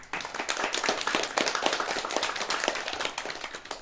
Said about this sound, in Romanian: Aplaudați că nu s-au bătut.